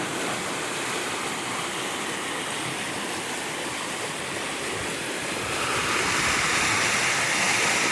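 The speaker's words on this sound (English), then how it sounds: "all that water's coming right straight down, right into this corner and just smashing the crap out of this corner" Storm water pours straight down and crashes into a rocky corner, making a loud, unbroken roar like a waterfall that swells slightly toward the end, with no voices.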